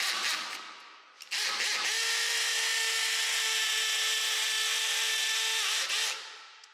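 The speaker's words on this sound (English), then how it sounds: "there we've reached our depth, so we can stop drilling now." A power drill bores into a wall to mount a TV, whining at a steady high pitch for several seconds, close and loud, then winds down and stops.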